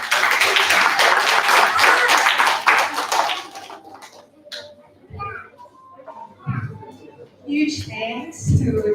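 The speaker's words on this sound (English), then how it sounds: "A round of applause for this team." An audience at a year-end student showcase night applauds a team with a few seconds of lively, close clapping that fades out, followed by scattered voices and shuffling.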